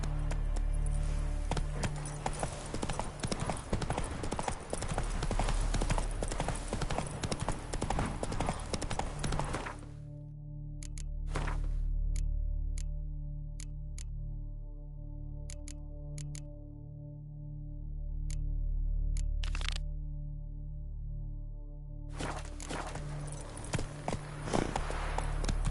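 Roach, a horse in The Witcher 3, moves at a fast gait with rhythmic hoofbeats over a steady game soundscape, then drops to a few sparse clip-clops before picking up speed again.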